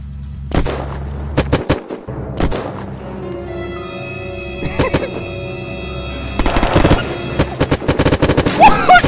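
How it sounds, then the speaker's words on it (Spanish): An impact grenade goes off in Unturned amid heavy gunfire, with sharp blasts and booms scattered through the clip and a dense burst of shots and explosions near the end, backed by a sustained tonal drone. "Le tiré una granada de impacto para adentro y lo maté a todos"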